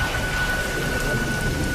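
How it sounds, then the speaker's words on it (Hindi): Heavy rain pours steadily with a dense hiss and low rumbling wind during a stormy night at a temple, with a faint thin steady tone running throughout. "बारिश अब भी जोरों पर थी और हवाएं मंदिर की दीवारों से टकराकर सनसनाती हुई गुजर रही थीं।"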